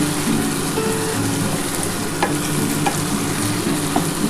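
Spice masala is stir-fried with ash gourd in a pan, a steady close sizzle with the scrape and clatter of a spatula stirring through the mixture, with no voices over it.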